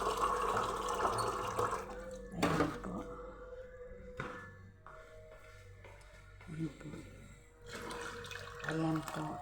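Filtered tap water runs and pours into a pot while soup is prepared for lunch, a steady splashing stream that stops and restarts, with someone speaking over it.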